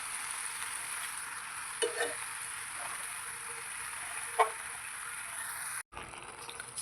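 Tomatoes being stirred in a hot pan while making paneer butter masala: a soft, continuous sizzle with a couple of faint scraping stirs and one brief clink, close by, with no talking, ending in a short dropout.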